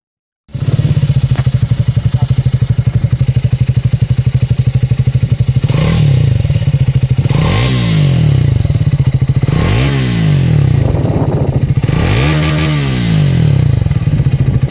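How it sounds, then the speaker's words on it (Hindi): A Triumph Speed 400 motorcycle idles with a steady, loud, close thumping exhaust note, broken by three or four short blips of revving throttle that rise and fall, with no talk. "अभी इस बाइक का एग्जॉस्ट नोट सुनते हैं हम।"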